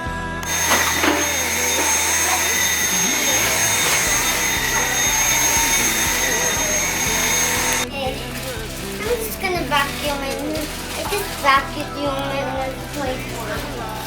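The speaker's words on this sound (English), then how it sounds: "Good job vacuuming" A vacuum cleaner whines steadily for several seconds, then shuts off abruptly, leaving someone talking and moving around nearby.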